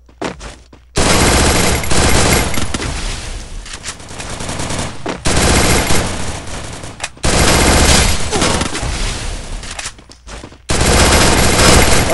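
Bursts of rapid automatic gunfire in the mobile battle royale game Free Fire, loud and close, coming in several long sustained volleys separated by brief pauses.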